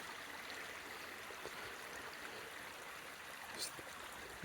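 Small rain-fed hillside stream running toward a river, a soft continuous trickling and babbling heard at a distance, faint and even throughout.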